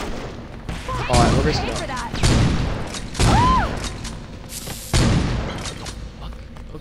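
Shotgun blasts in the video game Saints Row 2, several loud booming shots spaced about a second apart over a dense game soundscape, with someone talking between them.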